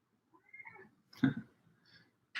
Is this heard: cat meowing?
yes